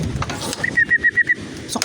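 Racing pigeon arriving at the loft during a 244 km derby, with a short run of about six rapid, evenly spaced high chirps or whistles near the middle, plus soft scuffling and thumps around it.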